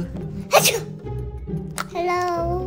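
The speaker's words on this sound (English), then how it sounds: "I sneezed." A single sharp sneeze burst near the start, followed by a short breathy sound, a brief laugh and a spoken greeting.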